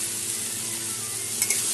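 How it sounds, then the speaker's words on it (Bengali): Water hits freshly fried spices in a pan for a vegetarian taro curry, setting off a loud, dense hissing sizzle that holds steady over a couple of seconds, with a faint clink at the end. "এখন আমি জল দিয়ে দেবো। দিয়ে দিলাম জল।"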